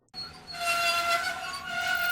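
A diesel engine named Bear pulls a local train in a children's railway story, a sustained horn-like tone sounding clearly over a soft rolling rumble for about two seconds.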